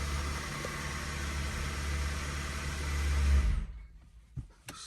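A Hyundai Ioniq hybrid's engine idles with a steady low hum and broadband whir, then shuts off abruptly, leaving near silence broken by a couple of faint clicks.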